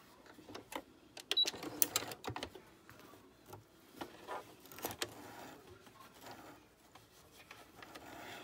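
A sewing machine stitching and gathering ruffle trim, quick irregular bursts of mechanical rattling and clicking with short pauses between runs, close and fairly quiet, no voices.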